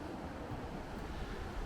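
The River Windrush flows past an old mill house under a bridge, a steady low rushing wash of water heard close and continuous, with some wind rumble.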